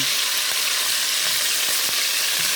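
Chicken pieces browning in a hot pan give a steady, loud, close sizzle and fry with faint occasional clicks and stirs, no talking.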